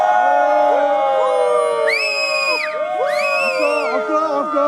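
A theatre crowd in Poitiers shouting, whooping and cheering together, a dense, loud and continuous roar with rising yells breaking above it throughout.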